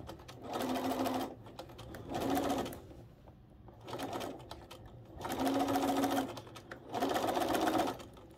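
A sewing machine stitches quilt pieces for a wedding ring quilt in four or five bursts of close, steady whirring, separated by short pauses with a quiet room in between.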